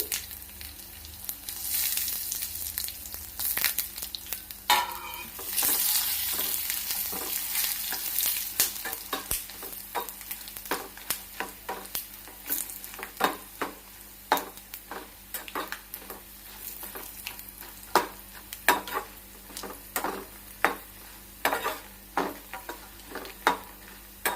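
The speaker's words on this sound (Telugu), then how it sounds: "ఇవి మంచిగా ఇలా ఇవి ఫ్రై అయిపోయినాయి కదా" Coriander seeds and cumin frying in a pan: a hiss of sizzling at first, then settling into many sharp taps and scrapes of stirring that grow sparser and more spaced toward the end, with no talking.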